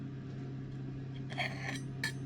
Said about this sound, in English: Now I'm going to cut through the steak